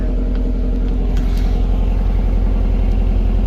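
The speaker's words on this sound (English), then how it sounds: "this exhaust system is extremely quiet" A Subaru Impreza WRX STI hatch idles on a stock quad-tip exhaust, a steady low burbling pulse, close and even throughout with no revving.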